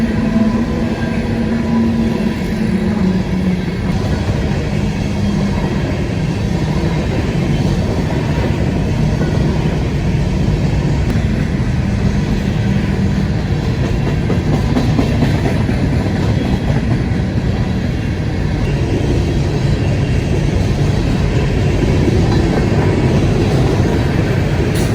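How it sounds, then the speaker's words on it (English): An empty coal train rolls past on the Norfolk Southern S Line, a loud, continuous heavy rumble of wagons and wheels that holds steady throughout, close by and unbroken. "E040 is an empty coal train running out of the Stanton Energy Center in Orlando,"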